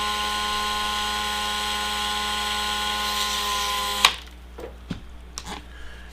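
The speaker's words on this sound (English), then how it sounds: "I'm using a Ryobi rotary tool." A Ryobi rotary tool spins at high speed grinding EVA foam, giving a steady high-pitched whine for about four seconds before it cuts off, followed by a few light clicks and taps.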